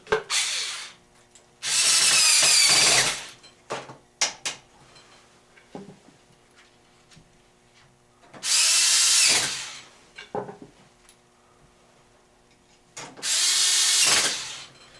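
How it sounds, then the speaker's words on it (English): A power driver tightens Phillips screws on a Ford Mustang steering column during a turn signal switch replacement, giving three loud whirring bursts separated by quieter clicks and handling noises of tools and plastic parts. "tighten up the other 2 Phillips screws there"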